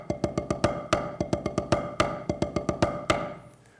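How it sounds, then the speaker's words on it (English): Snare drum six-stroke rolls played back to back, crisp clustered strokes with accented singles between doubles in a quick repeating rhythm, close and alone, ending in a short ring. "The 6-stroke roll has a single, 2 doubles, and a single"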